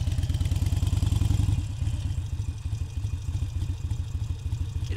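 Harley-Davidson Iron 883 engine thumping in a steady, close lumpy idle, easing into gentle throttle during a slow turnaround, its rhythmic pulses continuing loud and near throughout.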